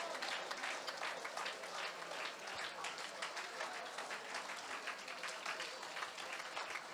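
Steady applause from a church conference audience, a dense, continuous patter of many hands clapping at moderate distance with no clear pauses.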